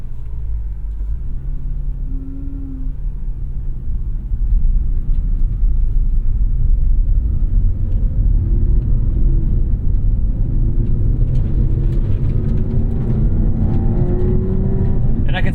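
A Porsche 911 997.2 GTS with 52K miles fires up in normal mode, a deep engine rumble that settles into a steady low idle, close and loud, with talking over part of it.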